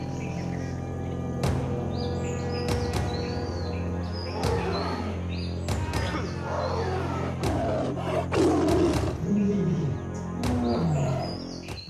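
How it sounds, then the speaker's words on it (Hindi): A tiger roars in the Ratan Mahal forests of Gujarat, with rough, deep bursts rising now and then over a steady musical backing throughout. "महल के जंगलों से उठी बाघ की दहाड़"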